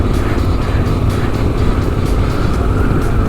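An adventure motorcycle in 4th gear labours up a hill on a two-track trail, its engine a loud, close, continuous low chugging drone with wind rush.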